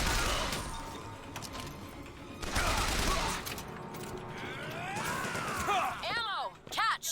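Gunfire in the video game BioShock Infinite, a dense fusillade of shots with crashes and impacts, mixed with busy game sounds and voices, loud throughout with a brief lull near the end.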